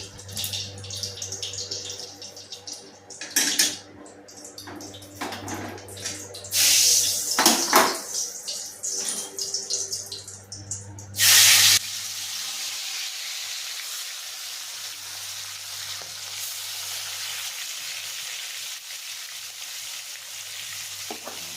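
Rupchand fish sliding one by one into hot oil, crackling and sizzling in bursts with stirring clatter, then settling into a steady, close frying hiss.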